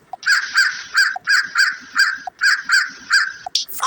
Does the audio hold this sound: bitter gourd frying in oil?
no